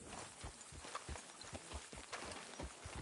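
Horse hooves clip-clop steadily in Red Dead Redemption 2, a regular walking rhythm of close, distinct thuds over faint ambient game background.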